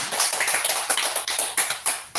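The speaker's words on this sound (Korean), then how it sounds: "또 한 주간 힘내시길 서로 축복하고 응원하는 우리 격려의 박수 한번" A church congregation claps in encouragement during a Sunday worship service, a dense, steady wash of many hands applauding at close range, loud throughout with no talk.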